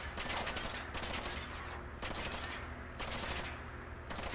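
An assault rifle fires in Fallout 4, fast automatic bursts repeated in about four clusters with short gaps between, loud and close, without talk.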